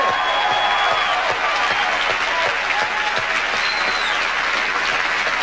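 Sustained studio audience applause at a 1987 late-night talk show anniversary broadcast, a dense steady wash of many hands clapping throughout with no speech.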